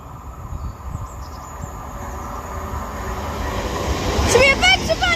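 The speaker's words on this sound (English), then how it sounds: "Now passing through is going to be another Cross Country Voyager heading to Manchester Piccadilly from Bournemouth." A Cross Country Voyager train rolls through Kings Sutton station on its way north toward Manchester Piccadilly, a rumble building steadily louder over several seconds with a brief high wheel squeal near the end.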